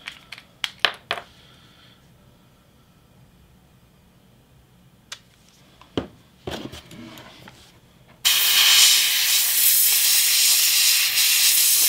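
An airbrush sprays blood-effect paint in a sudden hard hiss that starts after several seconds of faint clicks and handling noises and then runs loud and steady to the end.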